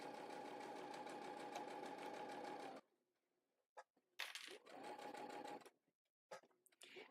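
A sewing machine stitching with a zipper foot runs in a steady, continuous whir for almost three seconds, then stops; after a pause with brief clicks it starts again for about a second and a half, with a few short bursts and thumps between runs.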